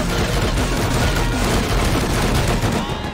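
M2 machine guns firing from silos in a modded Rust match, dense continuous gunfire roaring loud and unbroken throughout, with no talk.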